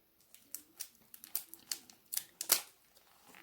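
Small scissors snip through the packaging of a parcel being opened, giving a run of about a dozen crisp, close cutting clicks at an uneven pace, with no talking.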